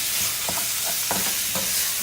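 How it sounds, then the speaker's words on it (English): An onion mixture sizzles steadily in a hot pan while a utensil stirs it, producing several soft rhythmic scrapes over the continuous frying hiss, heard up close with no voices. "It's all mixed with the onion. And keep stirring it, like don't stop."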